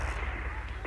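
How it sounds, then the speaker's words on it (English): Sharp gunfire crackles amid a tear-gas clash, with smoke drifting over the area; the shots sound dense and overlapping, loud and close, blurred together in a rough, continuous burst. "Yes, sounds like shots."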